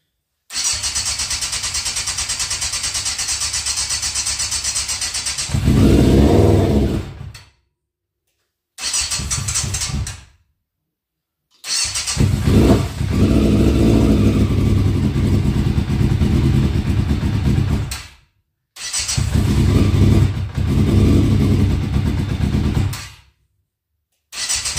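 A Yamaha Fazer motorcycle engine is started several times with short silent gaps between attempts, then catches and runs loud and steady as it warms up close by.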